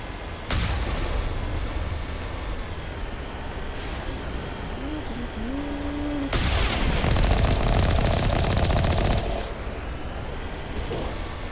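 Mako vehicle cannon and machine gun fire in the video game Mass Effect, loud bursts of gunfire over rumbling engine noise, with a heavier barrage in the middle and talking layered underneath.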